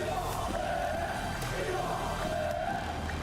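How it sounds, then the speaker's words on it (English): Esports watch party crowd for a Rocket League Championship Series match cheering and yelling, a continuous loud roar of many voices with whoops rising and falling. "the crowd's going crazy"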